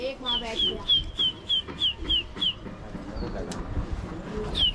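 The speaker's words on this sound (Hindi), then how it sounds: "इतना बड़ा 50 कबूतर है भाई" Pigeons cooing in a flock of about fifty birds, a rapid series of short repeated calls in steady rhythm, fairly close, followed by softer scattered calls and rustling.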